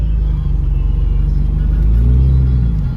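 A barn-find Ford Mustang rolls along after two years of sitting, its engine giving a steady loud low rumble close by with a slight rise in pitch toward the end and no voices.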